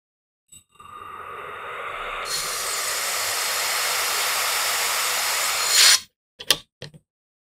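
Compressed air hisses steadily into an Umarex Notos airgun's CRC plenum for about five seconds, growing louder partway through, then cuts off, followed by a few short clicks.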